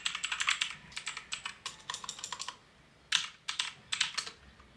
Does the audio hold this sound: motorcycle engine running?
no